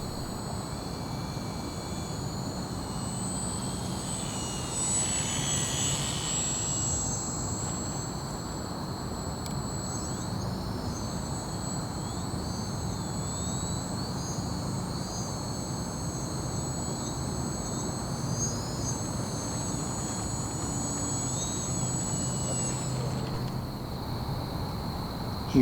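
An H-King Savage Bobber compact STOL RC model airplane, 1000 mm span, flying with a steady whining electric motor drone, moderately distant and continuous, with the pitch shifting as it approaches and lands.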